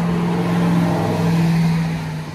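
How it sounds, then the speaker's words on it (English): A truck drives past on a nearby road, a steady engine drone that swells and then eases off, with no talk. "Sorry, a truck just went by."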